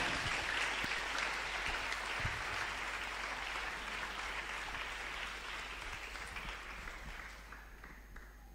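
Sustained applause from a church congregation during a Sunday service, a dense wash of clapping that fills the room from start to finish and slowly thins out toward the end.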